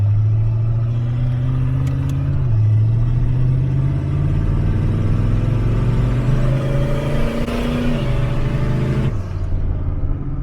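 A turbocharged small-block Chevy Camaro with FiTech fuel injection idles roughly and then revs, its low engine drone stepping up in pitch twice before cutting back abruptly, loud and close with no voices.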